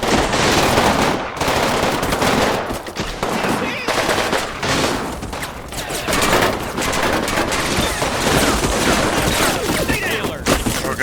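Dense, sustained machine gun fire rattles without letup in the Combat Mission Final Blitzkrieg video game, bursts overlapping into a loud continuous fusillade for the whole stretch.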